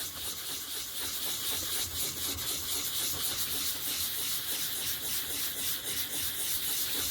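Fine sandpaper scuffing clear plastic in small circles to diffuse LED light, a steady, close rasping rub that pulses with each stroke and has no talking over it.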